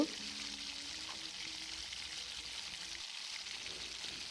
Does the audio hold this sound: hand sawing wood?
no